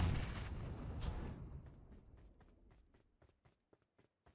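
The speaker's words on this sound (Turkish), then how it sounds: "Oraya bir bomba atayım bakayım." A grenade explodes in PUBG Mobile, a loud booming blast with a long rumbling decay, followed by a series of faint, evenly spaced soft thuds like footsteps as it fades.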